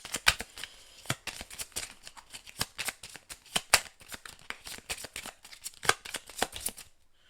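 Tarot cards being shuffled for a reading, a rapid run of crisp riffling flicks and slaps that keeps going unevenly before stopping abruptly near the end, with no talking.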